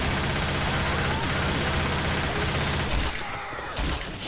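Dense, continuous automatic gunfire from the zombie shooter Left 4 Dead, a loud rapid barrage of shots filling the first three seconds before thinning out, with voices talking over it.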